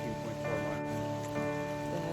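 Rain falling steadily on a hiking trail on a cold day, a continuous soft wash of drops heard up close with no talking over it.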